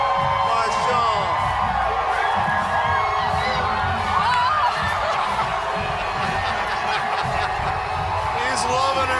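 A large parade crowd cheering for the Seahawks and Coach Pete Carroll, a dense, steady roar of whoops, shouts and children's voices, with talk mixed in.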